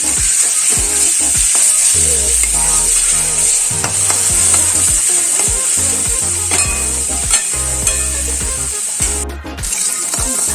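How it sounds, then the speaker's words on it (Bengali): Onions sizzle loudly in oil in a pan while a spatula stirs and scrapes them repeatedly, a close, constant fry with rhythmic knocks and scrapes against the pan. "খুব ভালো করে একটু লাল করে ভাজা হবে পেঁয়াজটা"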